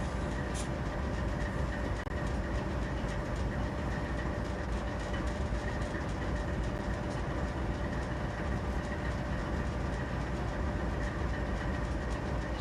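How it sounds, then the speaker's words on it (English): A GP38-2 diesel locomotive in the Open Rails Train Simulator game hums steadily with a continuous engine drone and faint rail noise, unbroken throughout. "Our train for today is the mighty GP382 diesel locomotive from the excellent Open Rails Train Simulator."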